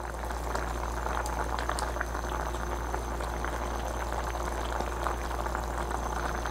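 A pot of chicken and turnip stew boils steadily on the stove, giving off a constant, close bubbling simmer with no pauses, heard alone throughout.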